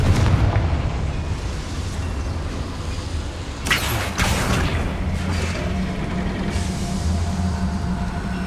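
Confringo fire spell blasts in the Hogwarts Legacy video game: a steady, heavy rumbling roar with a sharp, brighter explosive burst near the middle, loud and close, with no voices.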